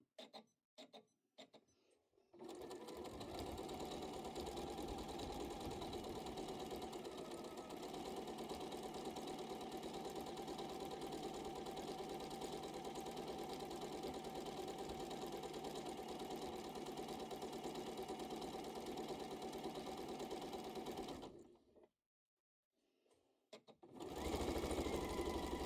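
A sewing machine runs steadily for about twenty seconds, stitching down the seam allowance of a hoodie pocket, a close, continuous rapid mechanical whir, with brief clicks before it starts and a short pause near the end before it resumes.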